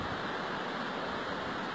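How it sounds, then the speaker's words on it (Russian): A waterfall roars on a mountain trail in Slovakia's High Tatras, a steady, dense wash of rushing water filling the whole stretch, loud and close with no pauses. "водопад шумит"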